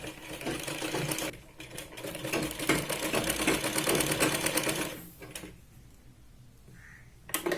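A sewing machine runs in a fast, steady mechanical chatter while stitching a fabric strip onto a Punjabi dress, close and loud, then stops briefly before a short restart near the end.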